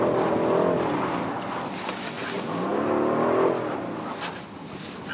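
Rolls-Royce car drifting on snow with traction and stability control switched off, its engine note rising and falling steadily under sweeping tire noise for several seconds.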